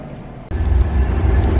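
A train pulls in at an airport terminal, a low rumble suddenly swelling to a loud, steady roar with faint periodic high clicks over the top, no talk.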